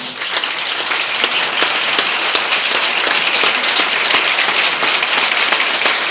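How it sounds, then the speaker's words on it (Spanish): A standing congregation applauds at a Pentecost Mass, a loud, dense, continuous roar of many hands clapping at once, evenly sustained and close, with no voices rising above it. "darle un aplauso al Espíritu Santo de Dios"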